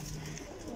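Domestic pigeons kept on a rooftop coo softly, a low, throaty murmur lasting under a second against faint background noise.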